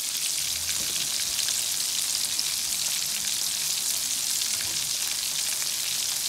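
Butterfly shrimp and fish sizzle steadily as they fry in a pan, a close, continuous crackling hiss with no pauses and no voices.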